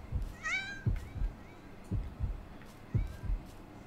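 Cats meow in the video game Yomawari, a clear high mewing call followed by a fainter second meow, mixed with soft low thumps.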